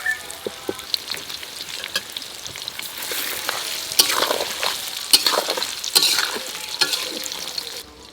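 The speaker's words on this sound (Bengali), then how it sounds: "তেলের উপর আমগুলো আমি ছেড়ে দিচ্ছি।" Mango pieces frying in hot oil with bay leaf and panch phoron sizzle steadily up close, broken by scraping and clacking from stirring, with no talk over it.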